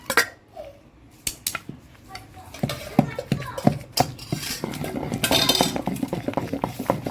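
Gongura leaves pounded in a stone mortar, giving irregular hard knocks and clinks of stone on stone that start sparse and grow busier, close and fairly loud.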